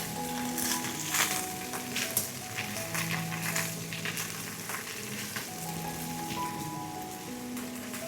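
Beef, cabbage and garlic stir-fry in a hot pan with a steady, dense sizzle and hiss, broken by occasional scrapes and clatters of stirring. No voices.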